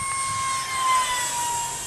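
A small AEO 8-blade 40mm electric ducted fan jet model flies on 4S power, a steady thin high whine with faint overtones drifting slightly in pitch and swelling briefly mid-pass.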